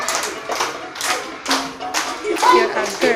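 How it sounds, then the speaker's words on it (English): Children in an action song clap their hands in a series of sharp, irregular claps with a voice sounding over parts of them. "Clap your hands."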